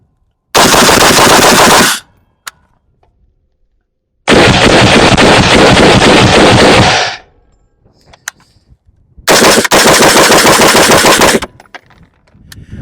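Sustained rapid-fire bursts from a PSA PA-15 20-inch M16A4 clone rifle, three long, very loud dense strings of shots separated by quiet pauses with faint clicks.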